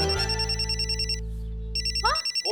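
A telephone ringing with an electronic trilling ring, two bursts separated by a short pause, fairly loud and close, with no talking over it.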